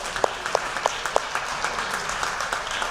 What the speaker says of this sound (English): Round of applause again, because she's the best.